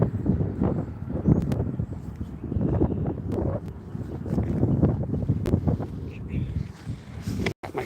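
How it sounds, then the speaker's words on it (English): Gusty wind buffets the microphone outdoors while fishing, giving a constant low rumbling roar with rustling bursts. "here comes the wind, Steve."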